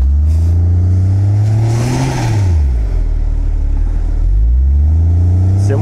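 A Nissan Patrol off-roader with a BMW engine labors in deep snow, loud and close, its revs rising, dipping and climbing again in long sustained pulls.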